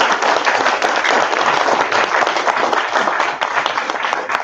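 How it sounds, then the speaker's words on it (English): Students at a panel forum give a loud, continuous round of applause, dense clapping from a sizeable crowd sustained throughout without talk. "So give yourself a round of applause."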